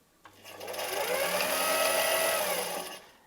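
A Pfaff sewing machine runs steadily while winding thread onto the bobbin, a close, even mechanical whir that rises quickly, holds for about three seconds, then slows and stops.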